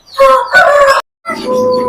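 A rooster crows loudly and close by in two harsh bursts, a short pause, then a third drawn-out call, with no talking.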